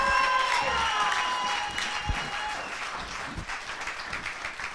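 A crowd applauds and cheers loudly at a church gathering, dense sustained clapping with whoops and shouts, steady at first and then gradually thinning out.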